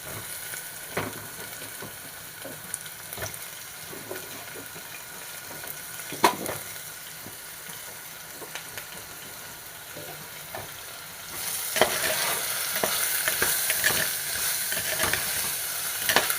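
Chayote with green chilli and curry leaves sautéing in oil, a quiet crackle with occasional spoon knocks that swells into a louder, denser sizzle toward the end.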